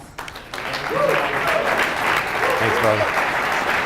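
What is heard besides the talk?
audience applause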